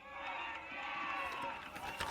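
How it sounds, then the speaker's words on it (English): A crowd at a Delaware Academy high school football game cheers in a dense, sustained roar that swells slightly and stays steady throughout. "You can hear the crowd really get into it for the Delaware Academy"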